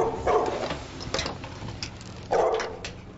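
Guide dogs bark and yip in the exercise yards of a guide dog school, several loud barks in bursts with gaps between them, slightly distant with outdoor ambience.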